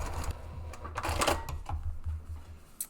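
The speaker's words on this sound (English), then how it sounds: "So go ahead and top stitch down the 2 short edges and across the base." Sewing machine top stitching down the edges and base of a pressed fabric flap, a steady low mechanical hum with faint ticking clatter running the whole time.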